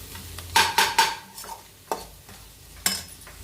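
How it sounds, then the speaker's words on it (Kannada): Fried rice with pepper powder is stirred in a pan, a spatula scraping and clanking against the metal in a few sharp, irregular strokes over a faint background sizzle, with no talking. "ಅದು ಕೂಡ ನೀಟಾಗಿ ಮಿಕ್ಸ್ ಮಾಡಿಕೊಂಡು ಫ್ರೈ ಮಾಡ್ಕೊಳ್ಳೋಣ"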